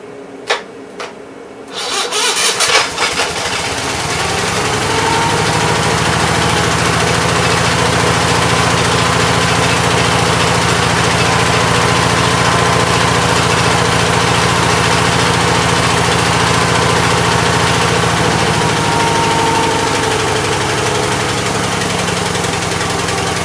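An Onan B43 engine, just running again after its coil wire was reconnected, clatters briefly at first and then settles into a loud, steady, low idle with a droning hum that holds close by throughout.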